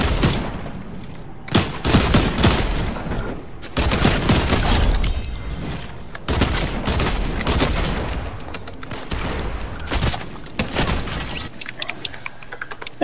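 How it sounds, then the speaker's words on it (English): Rapid bursts of gunfire from a Fortnite squad match crackle loudly and continuously, with dense overlapping shots and brief pauses between volleys, and no voices are heard. "Is someone being shot at?"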